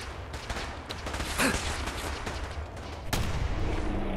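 Gunfire rattles in the game Fallout 4, a run of sharp shots over a dense battle din, with one louder blast near the end.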